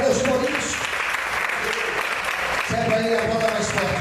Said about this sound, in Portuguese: Você pode aplaudir e glorificar a Deus por isso.